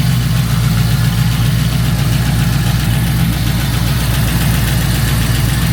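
A restored 1972 Chevelle RS engine idles steadily right after its first start, a loud, close, continuous low rumble with an even throb and no voices.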